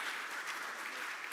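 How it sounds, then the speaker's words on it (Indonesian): Applause from an audience at an Indonesian Ministry of Transportation ceremony, a steady wash of clapping heard alone with no voices. "Boleh tepuk tangannya teman-teman yang berada di Kementerian Perhubungan."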